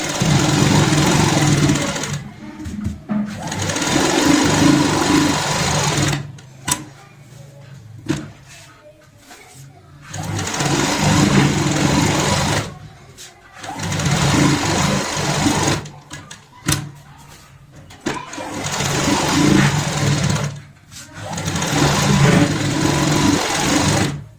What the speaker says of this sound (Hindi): इसके ऊपर सिलाई का काम कंप्लीट करेंगे